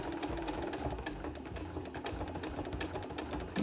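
A sewing machine stitches a quilt over Velcro around the point of a flame appliqué on an advent wreath design. The rapid, continuous mechanical whirring is quiet and even, with no talk.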